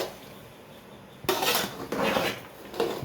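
Beef biriyani rice being stirred in a cooking pot in a Kerala-style kitchen, a few quick scraping and clattering strokes of a spoon against metal, close and fairly soft.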